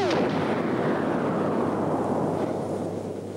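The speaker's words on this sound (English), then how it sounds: "there is a flash pot which caused an explosion" A flash pot special effect detonates in a home-made effects shot of laser beams from two robots striking bricks, giving a loud explosive boom that rumbles and slowly decays over a few seconds, with no voices.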